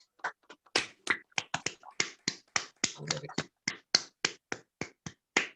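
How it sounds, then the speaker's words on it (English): Scattered individual claps from participants on a Zoom call at a Burns Supper, sharp separate hand claps in an uneven rhythm, close and isolated rather than a blended crowd. "a round of applause rather, to all of them for pulling all this together"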